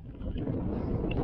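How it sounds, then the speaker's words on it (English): Strong wind gusting across an exposed fell-top gap on the Mosedale Horseshoe in the Lake District, a steady loud rush buffeting the microphone with no other sounds. "One windy gap, and it certainly is windy."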